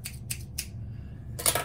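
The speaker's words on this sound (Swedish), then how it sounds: "Det första vi måste göra är klippa lite basilika här." Scissors snip fresh basil leaves for homemade pesto, giving three quick crisp cuts in close succession, a pause, then a fourth snip, close and clear with no talking.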